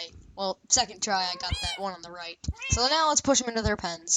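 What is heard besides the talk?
cats meowing in Minecraft video game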